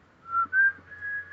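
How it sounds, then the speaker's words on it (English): A person whistles a short tune of a few clear, sustained notes, close and alone with no talking. "Can you whistle for me, please"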